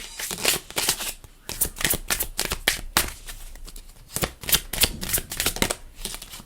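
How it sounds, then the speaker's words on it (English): Tarot cards being shuffled by hand, a fast run of crisp riffling and slapping bursts that repeat in uneven clusters, close and fairly loud with no talk over them. "I'm going to shuffle again."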